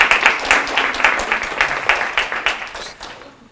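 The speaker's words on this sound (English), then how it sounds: "Round of applause there" Applause at a Project READ library volunteer recognition event, a small audience clapping in a loose, uneven rhythm of distinct claps, fairly close, fading out toward the end.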